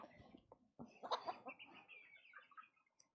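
Several chickens cluck and squawk in short, busy bursts as they scramble and fight over thrown bread outdoors, fairly close, with brief gaps between the calls.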